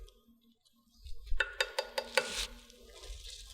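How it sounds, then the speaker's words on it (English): Stirring a mixture containing ammonia in a bowl, a rapid series of about six clinking utensil strikes against the side, close and fairly quiet, then soft scraping. "Okay, then you're going to mix everything together. And give it a good mix."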